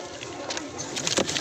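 Racing pigeons scuffling, with a brief burst of close, breathy cooing and rustling over low background noise.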